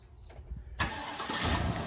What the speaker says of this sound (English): It's got remote engine start.